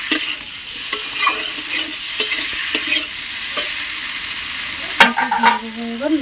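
Already-fried eggplant is tossed with potatoes in a hot pan for a rohu fish curry. Soft sizzling runs under frequent clinks and scrapes of a spatula, close up, with a louder clatter near the end.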